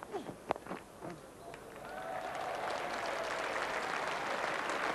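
A cricket crowd at a South Africa versus England test match breaks into applause for a fifty partnership, a broad distant clatter of clapping that swells and holds steady after a few scattered early claps.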